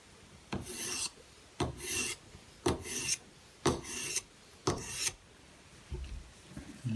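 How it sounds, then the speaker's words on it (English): A Benchmade Bushcrafter 162 knife blade drawn across a Hapstone sharpening stone in push strokes, five or six even, rasping strokes about a second apart, close and clear with no talk. "I just use a push stroke so all those scratches are established in the same direction"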